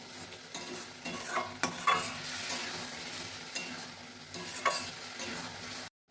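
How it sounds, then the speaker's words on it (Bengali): Fish curry with ginger paste stirred in a frying pan, a continuous sizzle with intermittent scraping strokes of a spoon, close by, ending abruptly, no voices. "দিয়ে নাড়তে থাকছি। এইভাবে নাড়তে নাড়তে মাছটা হয়ে যাবে আস্তে আস্তে।"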